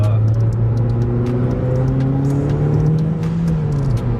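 A turbocharged Honda Civic Si engine revs steadily under acceleration, droning close and loud with a rising pitch for several seconds, no clear pauses, with a blow-off valve.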